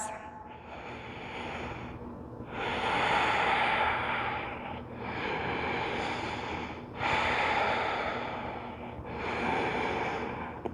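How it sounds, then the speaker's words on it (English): Slow, deep Ujjayi breaths drawn in and out through the nose with a throaty, ocean-like rasp, each long inhale and exhale rising and falling in a steady rhythm, close and alone. "Use your Ujjayi breath if you need. In and out through the nose with a slight constriction in the back of the throat."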